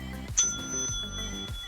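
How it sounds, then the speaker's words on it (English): A bright bell ding marking a page turn in an audiobook, a single clear strike that rings on over quiet background tones. "When you hear the bell,"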